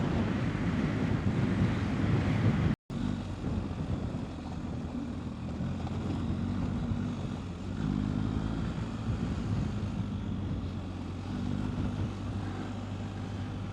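Steady wind buffets the microphone on a BMW R1250 GS motorcycle ride, with a low, continuous rumble and a brief dropout near the start; no voices.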